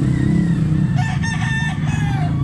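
A young gamecock stag, medium-sized, gives a single hoarse crow close by over a loud low rumbling background.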